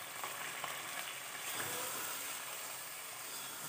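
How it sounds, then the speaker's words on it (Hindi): Keema minced meat fries with golden onions in a pan, a steady close sizzle with faint stirring and no talk. "इसके अंदर हम डाल देंगे कीमा,"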